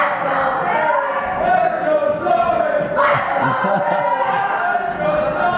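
A wrestling crowd at a UKW Friday Night Showdown roars and shouts in a sustained, loud wave of voices, swelling again midway with bursts of yelling.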